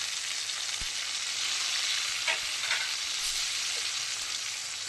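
Tomato frying in a pan for a fish curry, a steady dense sizzle that holds throughout, with a few faint stirring scrapes and no talk.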